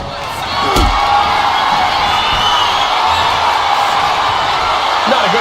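Wrestling arena crowd at a live WWE-style main event roars and cheers continuously, a loud dense wash of voices with a sharp thud near the start and faint commentary mixed beneath.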